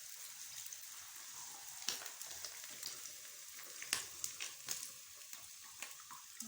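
Ingredients frying in oil for a homemade hair-growth remedy, giving a steady close crackling sizzle with scattered sharp pops throughout and no voices.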